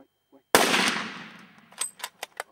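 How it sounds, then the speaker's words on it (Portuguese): A single loud rifle shot is fired at a Cape buffalo during a hunt in Limpopo bush, a sharp close blast with a long decaying echo, followed by a few faint clicks. "Foi atingido, embora nos tenha parecido quando o animal rodou que o tiro foi mal colocado."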